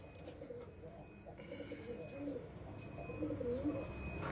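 Pakistani Saharanpuri pigeons coo in soft, repeated low bubbling calls, moderately close, over steady background murmur and faint chirps.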